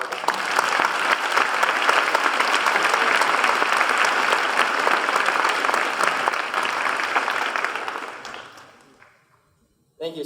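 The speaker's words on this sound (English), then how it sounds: "Get another round of applause for Lieutenant Colonel McCarthy." A school Veterans Day crowd gives Lieutenant Colonel McCarthy a round of applause, steady and full for about eight seconds before tapering off into near silence, with a voice starting at the very end.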